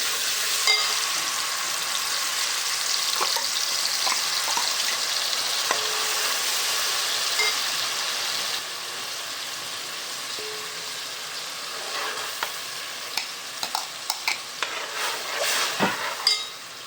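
Spices frying in hot oil in a cooking pot for a fish recipe, a steady close sizzle running throughout, easing slightly midway, with a few stirring clinks near the end.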